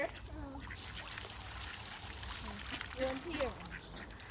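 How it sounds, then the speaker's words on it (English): Ducks near a swan being fed by hand quack and honk in short calls over outdoor background noise, while people talk throughout. "Look at the brave duck, look."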